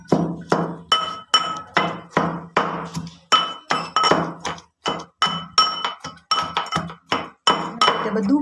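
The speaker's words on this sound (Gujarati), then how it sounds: "હવે બધાને આપણે થોડું ખાંડી લઈશું બધું" Garlic chutney ingredients and salt are pounded in a mortar, giving a steady run of sharp, close clinking strikes at about two per second with no voices.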